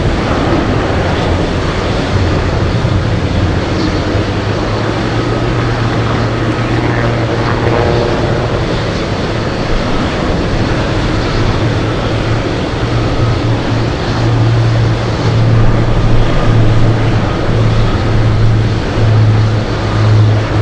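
A Boeing 747 Dreamlifter comes in to land at Anchorage, its jet engines producing a loud, continuous broadband roar with a low droning tone that strengthens toward the end.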